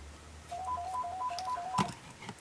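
Telephone ringing indoors in a crafting room, a quiet repeating electronic ring of short beeps, followed by a brief clunk of handling.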